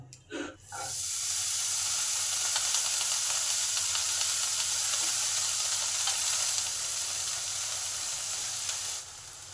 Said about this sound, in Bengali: প্যানের মধ্যে যে মটরশুঁটির খসাগুলো আছে সেইগুলো দিয়ে দিলাম